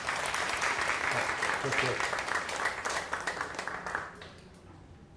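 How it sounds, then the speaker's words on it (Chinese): A church congregation at a Christmas thanksgiving Sunday service claps in congratulation, dense and sustained, then fades out near the end, with a voice speaking briefly over it. "来拍手恭喜因"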